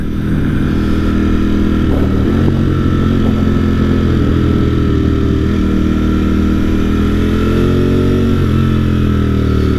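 A Ducati Streetfighter V4S motorcycle is ridden, its engine loud and close, with the pitch swelling and dipping as the throttle opens and closes.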